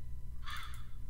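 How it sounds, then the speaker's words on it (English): A single harsh crow caw rings out in the Amnesia horror video game, brief and fairly close over a low ambient drone. "Crow, can you shut up?"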